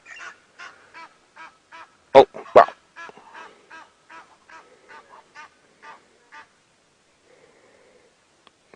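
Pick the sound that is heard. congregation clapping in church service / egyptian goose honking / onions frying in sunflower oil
egyptian goose honking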